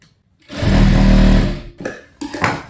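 A sewing machine runs loud and close in a fast steady burst, joining the side seam of a full-circle gown cut from an old saree, then stops and gives two shorter bursts.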